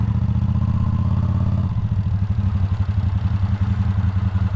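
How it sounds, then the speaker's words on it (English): A Honda motorcycle engine with no exhaust runs loud and near, its steady drone shifting into a rough, rapid, pulsing rev that clatters on without pause. "Honda se dere kao mazga, pošto nemam izduve"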